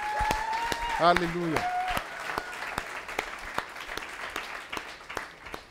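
Church congregation applauding after a shouted acclamation, steady crowd clapping with a voice singing or calling over it at the start, continuing for several seconds.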